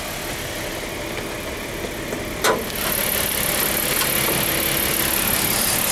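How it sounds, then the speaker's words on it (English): A Ford XR6 4-litre engine idles steadily with the bonnet open, a constant close mechanical hum broken by a brief click partway through. "The motor is running."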